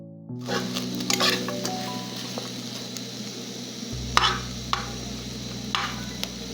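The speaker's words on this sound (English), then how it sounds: "And then in the same pot or sufuria, you start frying your meat." Beef frying in a pot (sufuria) as the first step of a stew, with a steady close sizzle and a few sharp clinks of stirring, and no voices.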